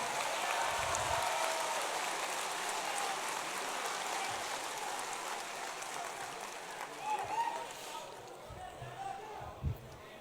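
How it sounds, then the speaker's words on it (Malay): A hall audience at a UMNO party gathering in Dewan Merdeka breaks into broad applause, a dense wash of clapping that slowly fades toward the end, with faint murmurs and a few sharper knocks. "Tepukan bergemuruh."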